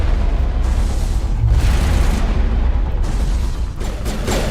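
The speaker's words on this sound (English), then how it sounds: "Yay, grenades." Grenade blasts in the video game Mass Effect land as several dull booms and bursts over about four seconds, heavy and continuous with crackling debris, no voices.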